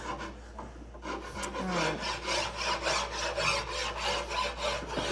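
A coarse rasp shaping wood for furniture, with steady repeated rubbing strokes close by, continuous and rhythmic, no talking.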